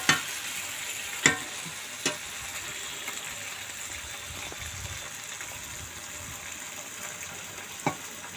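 Fish fries crisp in a pan with a steady, fairly quiet sizzle throughout, punctuated by a few sharp clicks of a utensil against the pan, and no talk.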